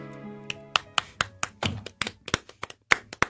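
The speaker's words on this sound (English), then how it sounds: "Nice golf clap for that performance" A light golf clap: about a dozen sparse, separate hand claps with a loose, uneven rhythm, close and crisp, heard alone after a faint tone at the start.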